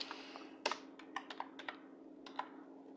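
Someone types a short search query on a computer keyboard, a handful of quiet, crisp key clicks in an irregular rhythm against a steady background hum, with no talking.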